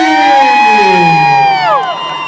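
Motorcycle show arena crowd cheering and shouting loudly at the close of the performance, a continuous dense roar of voices with rising and falling whoops that carries through the whole stretch.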